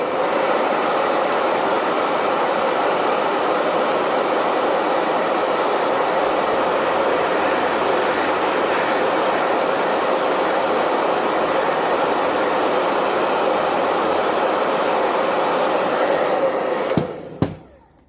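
A hair dryer blows steadily over a freshly painted ceramic piece, a loud continuous whooshing drone that runs unbroken for about seventeen seconds before cutting off abruptly, followed by a brief clunk.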